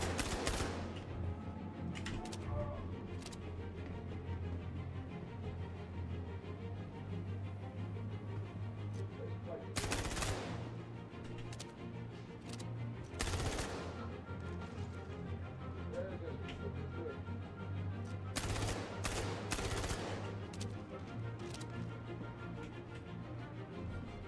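Sharp bursts of weapon fire in a first-person shooter game crack out in short clusters and single shots, spaced through a steady low background hum and faint game noise.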